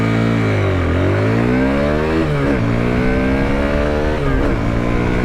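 A motorcycle, a bike priced under 1.5 lakh rupees, revs hard and accelerates on a track. The engine is loud and close throughout, its pitch climbing, dipping and climbing again.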